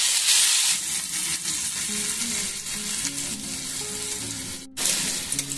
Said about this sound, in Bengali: এখন এগুলোকে আমি একটুখানি ভেজে নেব।